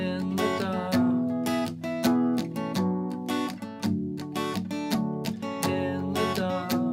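Acoustic guitar strumming the intro chords of a song, steady rhythmic strokes with sharp attacks, full and close, played alone without any voice.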